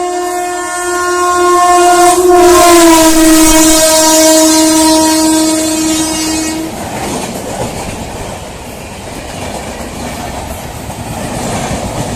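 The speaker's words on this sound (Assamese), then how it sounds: "এই আহিছে চাওক ট্ৰেইন" A loud, sustained train horn blares for several seconds as a train arrives at a railway station, then gives way to the rushing rumble and rattle of the passing train.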